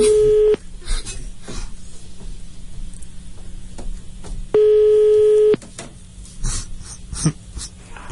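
Two steady electronic telephone tones, each about a second long, one at the start and one midway, ring out over a low background hum and faint clicks.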